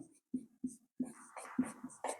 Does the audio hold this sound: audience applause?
no